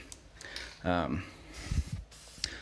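Light coat of spray adhesive misted onto brake parts during a brake job on a Cadillac CTS-V, heard as short hissing spray bursts between spoken remarks.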